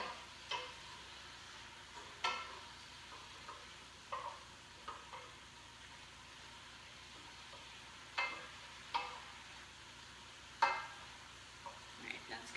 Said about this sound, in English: Just stirring it down until it gets kind of wilty.